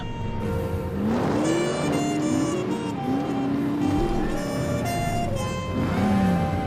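A car engine in the video game The Saboteur hums and revs steadily while driving, with rising and falling pitch as it shifts, loud and continuous without speech.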